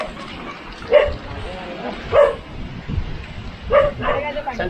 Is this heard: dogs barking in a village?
yes